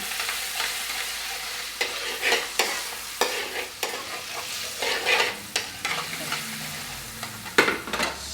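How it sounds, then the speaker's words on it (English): Steady frying sizzle of tomato puree in a pan, with loud scraping stirs and clatters breaking through every second or so. "That's sizzling really, really nicely now."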